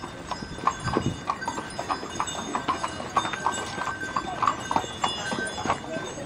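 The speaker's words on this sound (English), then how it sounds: "And the carriage is off." Horses draw a departing carriage, their hooves clip-clopping in a brisk irregular rhythm at moderate distance, with faint voices in the background.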